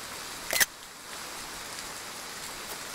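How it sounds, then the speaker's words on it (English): Steady rain falls in the Triangle Strategy video game as an even, continuous hiss, broken by a short bright clatter near the start and another at the very end. "Rain! Honest to goodness,"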